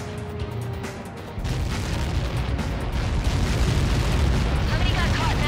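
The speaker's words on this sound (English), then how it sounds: "How many got caught in that explosion?" Massive explosion in the Ace Combat 7 combat flight game, first a low rumbling buildup, then a sudden loud blast that swells into a sustained roaring, crackling wash of debris and fire noise.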